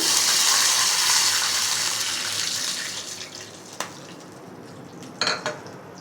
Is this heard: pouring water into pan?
yes